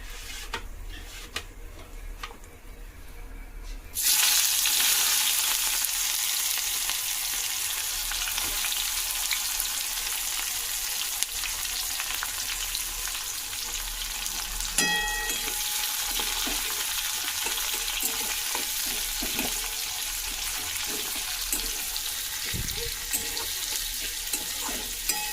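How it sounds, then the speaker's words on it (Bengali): Chopped onions fry in oil with cumin and bay leaf for a tengra fish curry. A steady, close sizzle swells louder after a few seconds, broken by a short clatter of stirring midway. "পেঁয়াজটা ভালো করে ভাজা ভাজা হয়ে গেলে"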